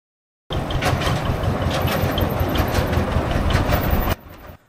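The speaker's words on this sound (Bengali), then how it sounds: "লঞ্চঘাট থেকে জেটির রাস্তার শেষ প্রান্ত পর্যন্ত একটি টয় ট্রেন চলে" A toy train runs along the Elephanta Island jetty with a steady close rumble and rhythmic clatter of wheels, starting abruptly and dropping away near the end.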